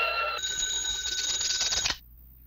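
An old-fashioned telephone bell rings in a continuous loud metallic trill inside a house in a cartoon show, lasting about two seconds before stopping abruptly, with no talking.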